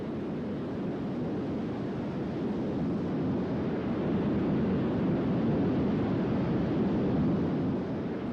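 Steady rocket engine thrust from a craft in the video game Kerbal Space Program, a dense continuous roar held at constant loudness for the whole span with no breaks and no voices.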